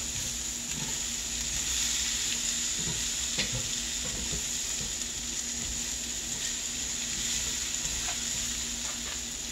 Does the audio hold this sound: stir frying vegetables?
yes